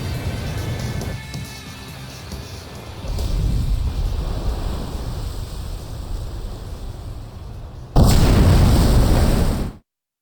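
Heavy explosions pound as the Hrimfaxi carrier is attacked and sinks in Ace Combat 5, a low rumbling roar building midway, then a final loud burst that swells and cuts off abruptly.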